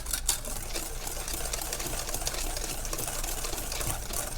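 An egg and cream mixture is whisked in a bowl with a dense, rapid, continuous clatter that holds steady and close for the whole stretch, with no voices.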